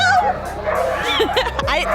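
A team of ten sled dogs hitched to a summer training cart in Rovaniemi yips, whines and barks excitedly at close range, with short yelps and whimpers overlapping and human voices mixed in.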